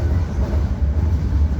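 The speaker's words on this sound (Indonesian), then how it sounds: "Tepat pada pukul 9:22 kereta api Ranggajati diberangkatkan dari stasiun Surabaya Gubeng, tujuan stasiun Cirebon." Low, heavy rumble of the Ranggajati passenger train pulling out of Surabaya Gubeng station, heard from inside as a steady, loud rolling drone with no talk.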